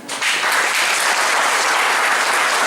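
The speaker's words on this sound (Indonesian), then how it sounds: "Belum semua tepuk tangan." Sustained, dense applause from a church congregation fills the space, steady and loud throughout with no voices over it.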